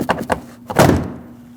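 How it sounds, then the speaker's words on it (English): Plastic push clips popping loose as the rear interior door panel of a 2006–2014 Lexus IS250 is pulled off: two quick snaps, then a louder thunk fading out, close and with no talking. "Grab the door panel from the bottom, pull it out, and that'll pop out all the push clips that hold it on."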